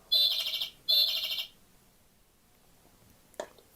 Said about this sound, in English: What sound does a bird make?